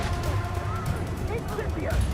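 A Confringo blasting curse going off in a video game, a dense burst of explosive crackling rumble beneath a voice shouting in the foreground.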